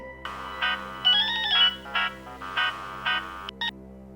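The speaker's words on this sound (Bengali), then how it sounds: "Professor যশোমন্তের phone." A telephone rings with a tonal electronic ringtone, several short repeated bursts, one rising phrase, close and clear, with no one speaking over it.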